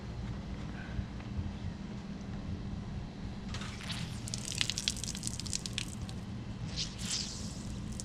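Wet fabric of a boat cover is twisted and wrung out by hand, soft squishing and trickling water that picks up halfway through, faint against a steady outdoor hum.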